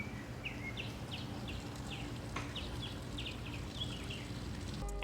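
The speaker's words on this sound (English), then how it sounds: "All you hear is birds chirping, the sound of a boat emptying." Small birds chirp in short repeated bursts outdoors beside a waterfront inlet at a South Florida home in Lighthouse Point, set against a steady rushing of water like a boat draining.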